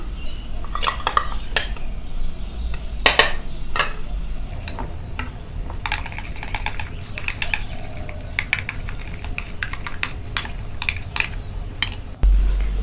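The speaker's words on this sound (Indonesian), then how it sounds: "Lalu aduk dan campur sampai merata." Chocolate cake batter with melted cocoa being stirred and mixed in a bowl, heard as irregular scraping and clinking of utensil against the bowl, close and steady throughout with no talk.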